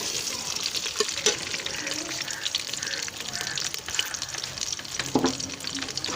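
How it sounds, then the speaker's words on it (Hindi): Onion frying in oil in a pan, a continuous close sizzle with intermittent stirring knocks and scrapes and a faint voice in the background. "पहले ऑयल के साथ ही हम इसमें प्याज ऐड करेंगे।"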